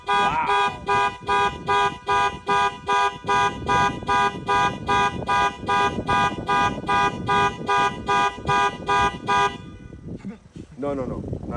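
A 2021 Range Rover Sport alarm blares close by in a steady, rapid run of identical loud honking pulses for about nine seconds, then cuts off; voices react over and after it.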